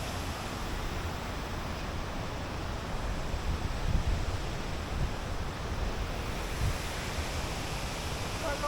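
A waterfall's steady rushing roar fills the air, a dense constant wash of falling water with faint gusts of wind over the microphone.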